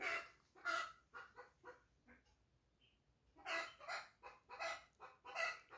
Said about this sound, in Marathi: बघा किती कोंबड्या ओरडतात